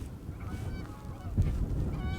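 A group of geese honks during a Michigan goose hunt in wet, snowy weather, calls rising and overlapping at a moderate distance against steady outdoor background noise.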